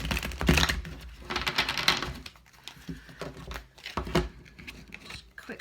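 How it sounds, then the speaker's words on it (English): A deck of tarot cards being shuffled by hand, with rapid papery flicks and riffling patter in quick bursts, close up and alone with no voices. "Just quickly shuffle these ones"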